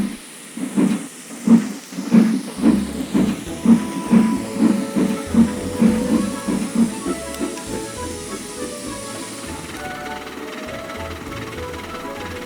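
A steam locomotive chuffs and hisses along the line, rhythmic puffs of exhaust that start strong and gradually blur into a steady rushing hiss, with a faint whistle-like tone rising over the later part.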